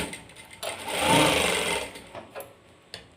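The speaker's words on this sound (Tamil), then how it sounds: "ஸ்டிச்சிங்லாம் சூப்பராக இருக்குது, நல்லா ஸ்பீடாக தைக்க முடியுது." Singer sewing machine set to speed 3000 stitching fast, a steady whirring run that swells loudest mid-clip then stops, followed by a few faint clicks.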